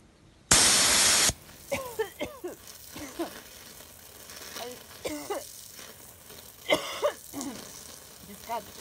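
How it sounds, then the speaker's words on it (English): A can of bear spray, aimed at a rattlesnake in a yard, fires one loud hissing burst lasting under a second, followed by scattered short voices and bursts of movement. "this is the bear spray"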